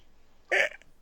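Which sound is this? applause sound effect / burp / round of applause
burp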